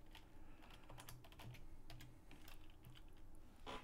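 Someone types on a computer keyboard while setting up a bowling game on an Amiga, a quiet, irregular run of close key clicks with short pauses and a louder clack at the end.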